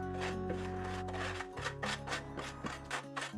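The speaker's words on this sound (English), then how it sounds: "With a heavy hoe, he scrapes the floor clean of caked-on grime." Heavy hoe scraping caked-on grime off the floor of an abandoned house being cleaned up, a series of rough rasping strokes in quick rhythm over a low steady hum, close and fairly loud.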